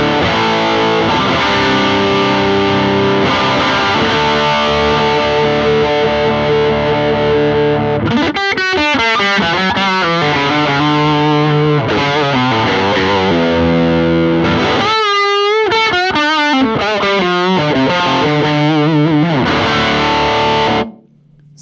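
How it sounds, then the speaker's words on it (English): Loud, continuous distorted electric guitar played dry through an amp, with sustained chords giving way to choppier riffs and bends, no other sounds. "So here's my dirty sound just right out of the amp."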